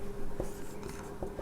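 Writing on a board during a tenth-grade maths lesson on polynomials gives a brief, quiet run of scratchy strokes with a couple of sharper taps.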